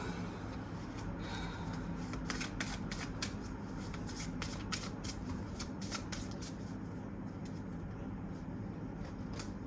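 Tarot cards shuffled and picked during a Hindi tarot reading, a steady riffling and flicking of cards with a run of sharp slaps in the middle, close and moderately quiet over a continuous low background rumble.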